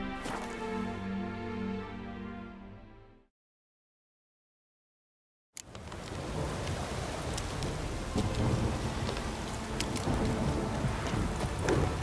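Steady rain with rumbling thunder in The Witcher 3 Next-Gen Update, abruptly cut to silence for a couple of seconds, then heavy rain and thunder return at full strength.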